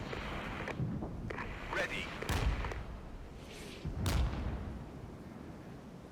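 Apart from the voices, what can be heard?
enemy counter-battery artillery fire in video game Regiments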